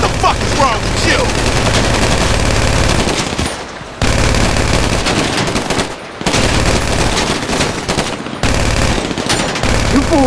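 Sustained automatic gunfire in the video game GTA Online, loud and dense rapid bursts running almost continuously with brief breaks, heavy and close.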